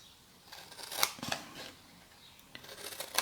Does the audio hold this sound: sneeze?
no